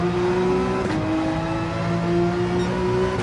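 A Porsche 911 race car engine in Gran Turismo 7 drones steadily at high revs, a sustained tonal hum with a brief dip near the one-second mark, loud and continuous with no talking.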